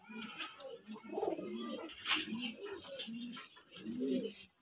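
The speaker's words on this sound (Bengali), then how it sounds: "এই যে কালদম কবুতর" Kaldom pigeons at a pigeon farm in Shailkupa, Jhenaidah, coo in repeated low, throaty bursts across the clip, close by, with brighter chirps and calls from other birds mixed in.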